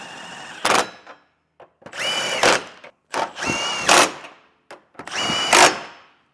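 A power tool tightens factory nuts on hitch studs at a 2024 BMW bumper beam, four short loud whirring bursts with brief pauses between, close up.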